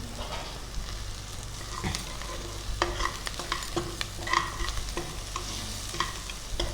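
Something frying in a pan before mutton goes in for a curry, a steady low sizzle with scattered scraping and clinking of a spoon stirring, close and fairly quiet, with no talking.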